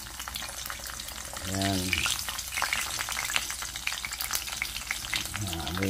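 Milkfish (bangus) frying in a pan crackles and sizzles continuously at close range, while a voice speaks briefly twice over it.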